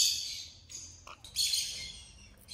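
Newly hatched baby birds in a breeding box give rapid, high, thin chirps in bursts, close and fairly loud, with short pauses between clusters and no talking.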